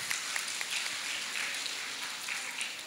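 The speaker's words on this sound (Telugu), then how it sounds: "ఎస్, చప్పట్లు కొడదాం అందరికీ." Audience at a Gurupournami meditation gathering in Tapeswaram clapping together, a dense, steady wash of applause throughout, close and fairly loud with no voices on top.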